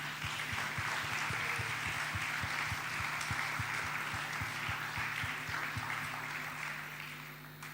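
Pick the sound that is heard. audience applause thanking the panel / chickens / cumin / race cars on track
audience applause thanking the panel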